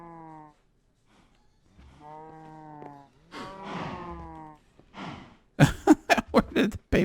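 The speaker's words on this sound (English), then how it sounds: "Where did the baby cow go?" In the Minecraft modpack Enigmatica 2, a baby cow gives several drawn-out, tonal moos with short gaps between them, followed by a burst of sharper sounds at the end.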